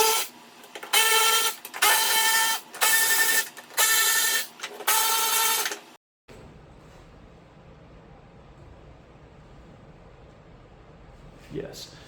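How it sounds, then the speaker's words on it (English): A Milwaukee electric socket ratchet backing out 8mm bolts on a Humvee in a garage, five loud whirring bursts of about a second each in quick succession, then a quiet room with faint handling noise. "use this in combination with my Milwaukee electric socket, and we're going to get this thing out of here real quick"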